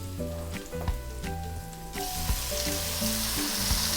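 Chopped tomatoes hit a hot pan of toasting garlic for a Filipino-style chicken curry, setting off a loud, steady frying sizzle with a brighter, hissier burst partway through, alone without voices.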